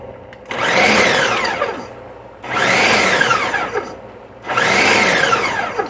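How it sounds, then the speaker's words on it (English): A Ninja blender chops fresh produce in three loud, even pulsed bursts with short quiet gaps between them. The motor whirs and the blades clatter through the food. "you hit the chop on this Ninja"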